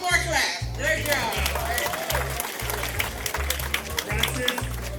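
Audience clapping at an elders' tribute celebration as an honoree makes his way to the front, steady dense applause throughout with strong low rhythmic music pulsing beneath it.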